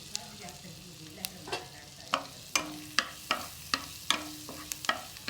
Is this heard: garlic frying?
yes